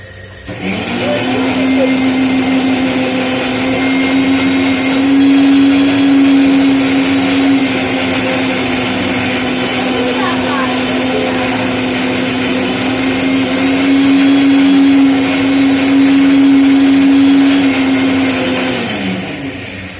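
Electric mixer grinder blending tomatoes, a loud sustained motor whine running steadily for nearly twenty seconds, with a rattling grinding texture and slight pitch shifts as it spins up and winds down.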